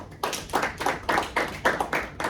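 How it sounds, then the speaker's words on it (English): A small group claps for a man who has just finished speaking, about seven distinct bursts in steady rhythm, fairly close and clear with no talk over it. "Clap it up for my man."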